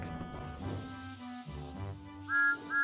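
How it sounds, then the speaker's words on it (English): A steam locomotive whistle sounds twice near the end, high and bright, over a rumbling, chugging background with hissing noise. "Maybe this track goes to the wharf too, whistled Thomas."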